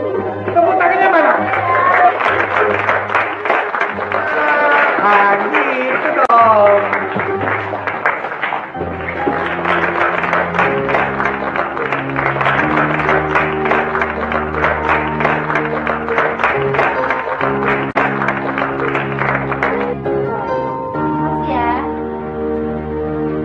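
Audience applause and crowd noise at a children's show, loud and sustained, mixed with chatter and a voice speaking over it, with music carrying through much of the clip.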